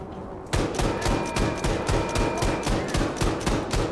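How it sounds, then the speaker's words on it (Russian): Rapid automatic gunfire from a weapon in the first-person shooter Wolfenstein II: The New Colossus, starting abruptly after a brief quiet moment, then continuing as a dense, loud, steady stream of close shots with no talking. "Очень странная пушка, серьезно,"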